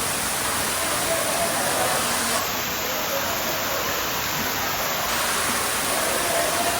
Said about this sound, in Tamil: தண்ணி பாருங்க எப்படி விழுது.